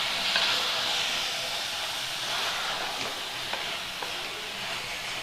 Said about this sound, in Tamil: இப்போது இந்த மசாலாவோட நல்லா கலந்து விடுங்க